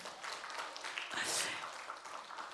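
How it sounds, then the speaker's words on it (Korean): A church congregation gives a blessing round of applause during a Korean worship service, a steady wash of clapping from a crowd of moderate size heard at a slight distance. "축복의 박수."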